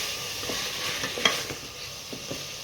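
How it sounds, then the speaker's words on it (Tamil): Raw mango, drumstick and eggplant sautéing in oil for sambar, a close, even sizzle with soft scraping stir strokes. "நல்லா வதங்குது பாருங்கள்"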